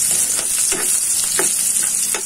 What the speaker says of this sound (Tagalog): Ngayon ito, ginigisa na natin.